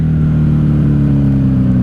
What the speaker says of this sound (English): These are simply stock exhaust with no baffles.